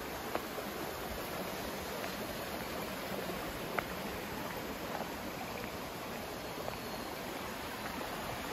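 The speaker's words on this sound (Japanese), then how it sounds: "急に滝があって、" Steady rushing water of a waterfall beside the approach path to Shirayama Hime Shrine in Ishikawa, Japan, fills the air, a continuous broadband roar with a few faint clicks over it.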